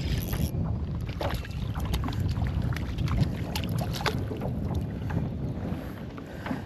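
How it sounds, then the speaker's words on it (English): Wind buffets the microphone outdoors on a lake while bass fishing from a boat, producing a continuous rumbling roar with scattered knocks and splashes. "And this wind is really annoying."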